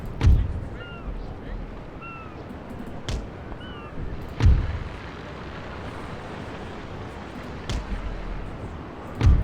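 Ship cannons fire in a naval battle in Empire: Total War, a few heavy booming shots spaced several seconds apart over a rushing sea-and-wind bed, with faint whistling projectiles between them.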